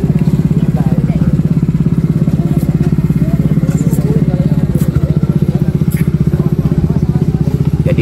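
A hand tractor cultivator tills a field to form raised planting beds, its engine loud and close with a steady rapid thumping pulse, alongside faint crackling and clatter from the soil.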